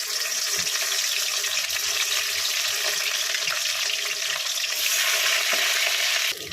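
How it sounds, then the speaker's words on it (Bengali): Rohu fish pieces fry in hot oil with a steady, dense sizzle and crackle that runs unbroken and fairly loud, then cuts off abruptly near the end. "মাছগুলো ভাজা হয়ে গেছে, আমি তুলে নিলাম।"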